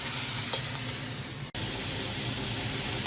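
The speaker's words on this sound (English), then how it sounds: "my kimchi goes in. I'm going to cook that till it's dry." Kimchi fries in a pan, a dense, steady sizzle with stirring noise running throughout, broken by one brief sharp dropout midway, with no voices.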